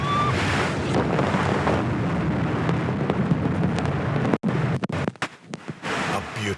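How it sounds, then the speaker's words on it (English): Storm wind and crashing waves on the Black Sea near Sochi make a loud, steady roar that breaks into sharp buffeting gusts near the end, with someone talking faintly under the noise. "It's during a storm on the Black Sea."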